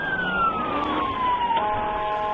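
A stolen ambulance's siren wails loudly and close in a steady falling tone during a police chase through city streets in Dayton, Ohio, with traffic rumble underneath.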